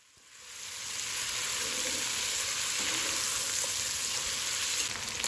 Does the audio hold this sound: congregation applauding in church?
no